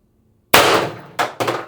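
A single shot from an IntruBuster Gen 2 airgun with Pistelle X-68 internals, firing a 7.3 gram pellet: a sharp, loud crack close by with a bright metallic clang, followed by two quicker knocks.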